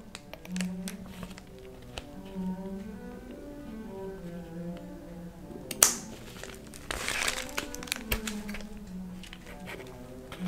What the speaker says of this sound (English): do you want to see me cutting this felt?